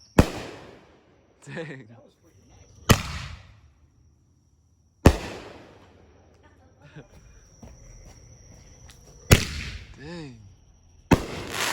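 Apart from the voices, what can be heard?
Halloween fireworks exploding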